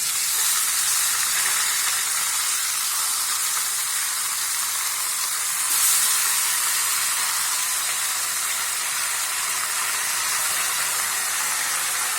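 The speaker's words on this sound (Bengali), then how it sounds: "5 মিনিট আলুটাকে ভাজার পর তারপরে আমি এই চিকেনটা এর মধ্যে দিয়ে দেবো, ম্যারিনেশন করা চিকেনটা" Marinated chicken pieces sizzle in a pan of frying potatoes, a steady bright hiss of hot oil running without a break, with one brief louder flare partway through and no talking.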